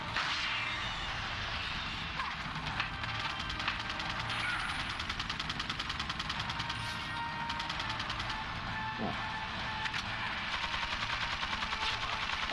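Rapid machine gun fire from Resident Evil 4, a dense run of fast repeated shots that keeps going steadily for the whole stretch, heard fairly loud with no voices over it.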